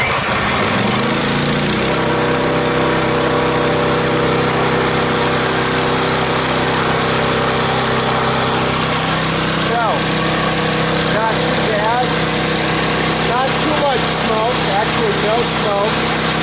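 A flood-damaged gasoline-powered pump engine cold-starts with the choke on and keeps running, a steady, loud buzzing drone close by, with someone talking over it in the later seconds.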